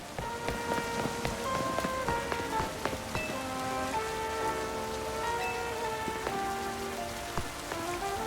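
Steady in-game rain from Pokemon Legends Z-A, a continuous patter of drops hitting the ground beneath a soft melodic music track, even in level throughout with no voices.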